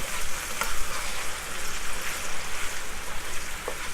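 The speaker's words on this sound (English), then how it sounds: "just leave it there to get to fry and fry and fry" Steady, close sizzling of tomatoes and onions frying in a pan, a constant crackling hiss with occasional louder pops and scraping stirs.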